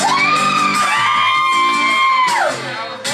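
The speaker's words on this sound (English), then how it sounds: "I love you screaming ladies" Loud crowd of women at a concert screaming, whooping and cheering in sustained, overlapping high-pitched shouts that swell and then taper off near the end, with no talking over them.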